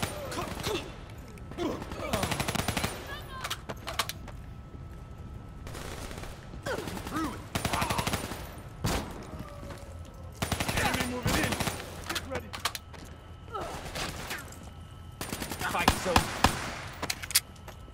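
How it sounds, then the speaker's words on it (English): Gunfire in Call of Duty Black Ops 3 comes as repeated bursts of automatic shots and single cracks, loud and close, with short pauses between clusters and some background game sounds. "The guns actually sound pretty good"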